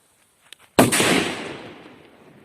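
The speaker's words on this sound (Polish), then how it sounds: "teraz mamy petardkę Fłotfunke PS3 Shark 4 gramy P1 kategoria emiter dźwięku" A Funke PS3 Shark firecracker, 4 grams, bursts outdoors after a few faint crackles, a single loud sharp bang whose echo rolls out and slowly fades over the next second and a half.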